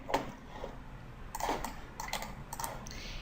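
A few short clusters of computer keyboard key presses enter a measurement, with light, close clicks separated by brief pauses and no talk.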